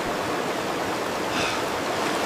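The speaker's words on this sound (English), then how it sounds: "hearing a distant roar, I know there's a waterfall ahead I must avoid." A waterfall on a wild river sends up a steady, dense roar that holds constant from start to finish, with no voices.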